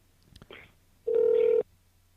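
A Skype call dials out with a steady electronic ringing tone lasting about half a second, preceded by a few soft clicks, with faint voice-like sounds just before.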